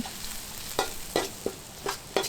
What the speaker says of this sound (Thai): นำพริกแห้งกระเทียมตำลงไปผัดให้หอม